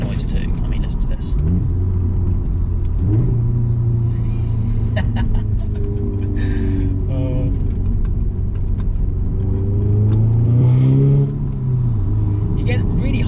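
Manual Audi S3 engine revving loudly close by, its pitch climbing and falling through several blips toward the top of the rev range, with someone talking over it.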